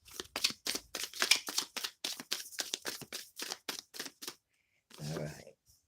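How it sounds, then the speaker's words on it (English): Tarot cards being shuffled by hand, a quick run of crisp riffling flicks in steady rhythm, close and fairly quiet, followed by a brief softer rustle after a short pause. "I'm gonna shuffle 3 times, and whatever come out, that's it."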